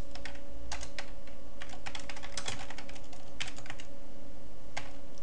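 Computer keyboard typing of assembly code: a fast, uneven patter of key taps, close and fairly clear over a steady low hum.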